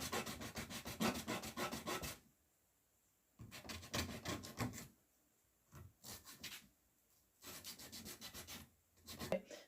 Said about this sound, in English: you just want to rub it back and forth. That kind of files down the rugged edges for you.